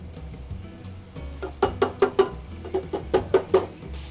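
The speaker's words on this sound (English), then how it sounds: "Now that this is at a nice sizzle, the vegetables are slightly cooked and translucent" Vegetables (garlic, fennel, carrots, celery and onion) with prosciutto sizzling in a pan, a soft close crackle under a run of sharp, rhythmic taps and scrapes from stirring, no voices.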